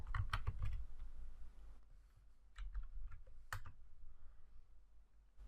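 A computer keyboard is typed on quietly to enter a vendor name in business software: two short bursts of quick keystrokes separated by a pause, then a few scattered clicks.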